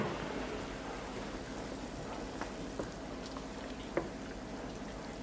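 Vegetables simmering in a covered pot, a soft, steady bubbling hiss with a few faint ticks and pops, heard alone and at low level.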